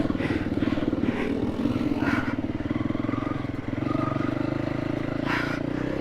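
An enduro motorcycle engine during an off-road training ride, a steady throbbing drone that holds close and constant, with occasional clatter and scraping over it.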